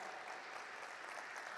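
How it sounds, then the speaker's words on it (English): Audience applause at a listing ceremony for Encompass Design India Limited at the National Stock Exchange, a steady continuous wash of many people clapping, heard faint and somewhat distant. "Can we once again have a huge round of applause?"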